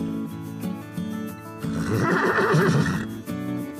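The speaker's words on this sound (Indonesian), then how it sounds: "Ternyata ada paku menancap pada kedua kuda, sehingga kuda-kuda itu menggila." Two carriage horses with nails driven into them neigh wildly. A loud, close, quavering whinny rises mid-clip over a steady tonal background, with no talk.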